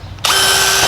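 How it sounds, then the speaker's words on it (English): A power drill boring holes in vinyl siding during home remodeling starts abruptly and runs as a steady, loud, high-pitched whine close by, with no talk. "drill a hole, drill another hole, connect the 2"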